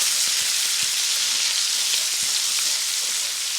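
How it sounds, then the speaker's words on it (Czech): Crushed garlic sizzling loudly and steadily in a hot pan with pieces of salmon, a continuous bright frying hiss with faint stirring clicks and no voices. "tady jsem rozdrtil česnek a přidám ten česnek do té pánve a zamíchám"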